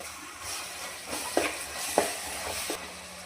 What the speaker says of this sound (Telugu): ఇది కూడా పచ్చివాసన పోయేదాకా వేగనిద్దాం